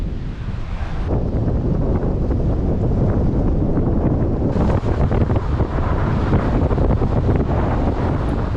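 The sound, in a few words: wind outdoors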